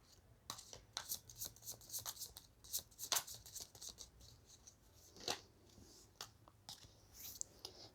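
Tarot cards shuffled by hand nearby, faint and intimate: scattered soft riffles, papery flicks and sliding rustles in an uneven rhythm, with no one speaking.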